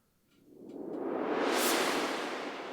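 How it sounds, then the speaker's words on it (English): Rising white noise sweep from a Nord Stage 4 synth keyboard, swelled in with a foot pedal, a loud hiss that builds and brightens over about two seconds before easing slightly, heard alone. "And then a white noise sweep, which I'm sweeping in with my foot."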